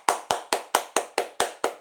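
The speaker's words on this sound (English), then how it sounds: "13 claps for Beyonce and Willow Bark." Eight sharp hand claps ring out in an even, quick rhythm, close and crisp with brief decays and no voices between them.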